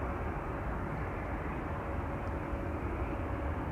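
An Atlas Air cargo plane arriving at Schiphol Airport, heard as a steady, distant low jet roar and rumble that holds level throughout with no voices.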